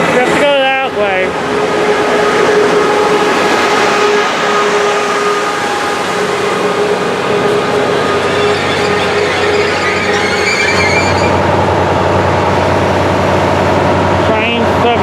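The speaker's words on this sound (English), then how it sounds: "Train 785 now headed to Union Station, Fullerton, and then point south to San Diego." Amtrak train at Glendale station, a loud steady roar of engine and rolling wheels with high squealing tones, continuing for the full length and shifting pitch partway through.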